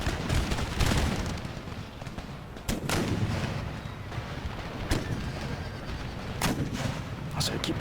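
Musket volleys and artillery booms from an Empire Total War battle ring out in scattered sharp cracks over a dense rumbling din, loud and close, with occasional horse sounds mixed in.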